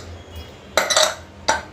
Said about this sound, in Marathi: आता आपण कुकर खोलून घेऊया.